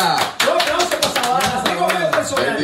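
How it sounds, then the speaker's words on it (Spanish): A few hands clap sharply and close on a radio show, irregular bursts of claps mixed over ongoing talk and background music. "Eso parece un aplauso"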